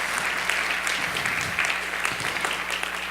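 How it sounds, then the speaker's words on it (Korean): A church congregation gives encouraging applause to a young woman after her testimony. The steady, even clapping from a roomful of people fills the whole stretch, with no voices over it. "대단한 용기를 보여준 우리 자매에게 다시 한번 박수로 격려했으면 좋겠습니다."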